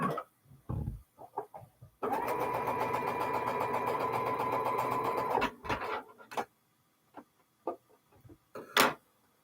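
A sewing machine stitching a quilt block seam runs in one sustained whirring burst of about three seconds. Scattered clicks and handling knocks come before and after it.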